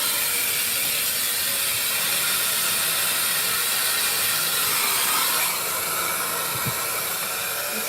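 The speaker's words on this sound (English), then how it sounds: "This is my official fluffing dryer." A pet-fluffing dryer blows a constant loud whooshing hiss close by, with a faint rattling mechanical edge that shifts slightly partway through.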